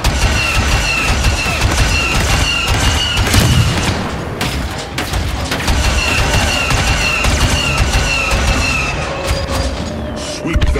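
Weapons fire and heavy explosions in a Far Cry 5 battle, with continuous loud booms, bursts of gunfire and rumbling impacts filling the whole stretch and no clear pauses.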